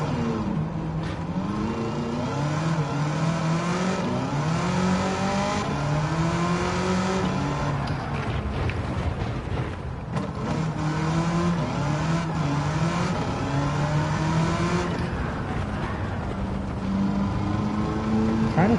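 A 1969 Corvette with a swapped engine, driven hard in Gran Turismo 7, revving loudly and continuously with rising and falling pitch through gear changes, some tire squeal mixed into the sustained engine roar.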